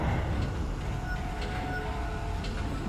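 A tram car hums and rumbles steadily as it moves in the sci-fi horror video game Dead Space, a continuous low rolling drone with faint metallic clicks.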